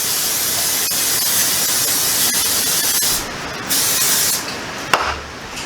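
Non-stick cooking spray hissing steadily into a bowl being readied for cinnamon peach roll dough to proof, a long close continuous spray with short bursts near the end.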